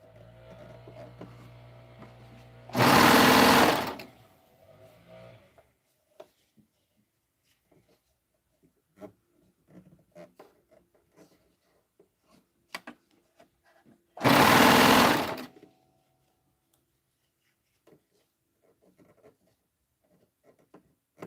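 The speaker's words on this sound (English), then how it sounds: "I should probably sew it together, huh?" A sewing machine stitches a pillow in two short, loud, steady whirring bursts roughly ten seconds apart, with quiet handling clicks and rustles in between and no talk.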